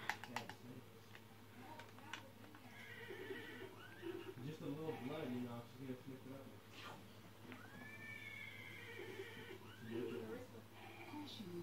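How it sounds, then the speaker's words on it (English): Horse neighs from a secret cassette tape in Metal Gear Solid V: The Phantom Pain, several whinnies repeating in a loop with people talking over them. "So then I picked it up and I said, horse neighs."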